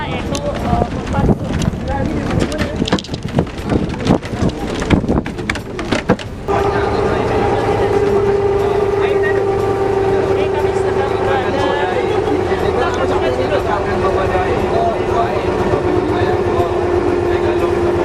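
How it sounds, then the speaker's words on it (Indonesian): A motorboat engine, the kapal mesin known locally as kumpas, crossing to Pulau Penyengat in the Riau Islands: buffeting wind and rumble at first, then a steady loud motor drone with a sustained tone, and a voice speaks throughout. "Pulau Penyengat ini bisa ditempuh dengan menumpangi kapal mesin yang mana masyarakat setempat menyebutnya yaitu Kumpas"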